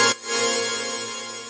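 Layered synth chords with a basic sub bass underneath, a sustained bright chord entering after a brief dip and holding steadily with a low pulsing bass, no voices.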